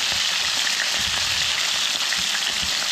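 Flounder fish frying in a pan, with a steady loud sizzle and crackle of hot oil continuing throughout.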